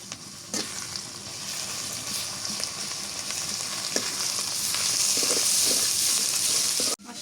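Spices with turmeric and red chilli powder fry steadily and loudly in a hot pan, with occasional scraping and stirring clicks throughout.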